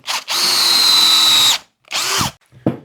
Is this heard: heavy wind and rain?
no